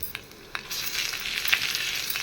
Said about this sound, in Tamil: எண்ணெயில் போட்டு நல்லா மிக்ஸ் பண்ணிவிடுங்க